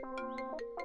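A phone ringtone plays as a quick, faint melodic run of electronic tones, about five short notes in under a second, with no talking over it.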